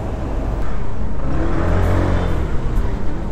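A Honda ADV160 scooter pulls out of a parking lot, its engine revving up into a steady, close, loud drone with a whirring rise, and no talking.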